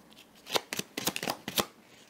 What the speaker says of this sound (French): je vais prendre 2 cartes ici